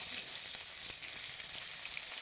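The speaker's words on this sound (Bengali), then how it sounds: "আর এবার তেলে ভেজে নেব।" Steamed cauliflower fries in hot oil for vegetable khichuri, a soft, steady sizzle with faint crackles, close and quiet.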